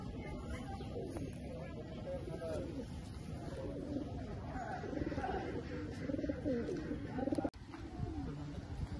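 Andhra (Chennai) pigeons kept for sale in Kolkata give repeated, overlapping low coos throughout, close and steady, with a brief knock near the end.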